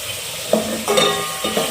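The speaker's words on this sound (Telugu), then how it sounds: "ఇందులో కొంచెం జీరా అండ్ ఆనియన్స్ వేసుకొని ఇలాగా ఫ్రై చేసుకోవాలి" Cumin seeds and onions frying in hot oil for a homemade chicken curry, heard as a loud, steady close-up sizzle with a few stirring scrapes and no talking.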